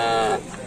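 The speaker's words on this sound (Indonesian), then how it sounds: "ada sapi lagi." A cow from a contest-winning cattle team in Jember, Indonesia, gives a single loud, close moo that trails off after under half a second, with no talking over it.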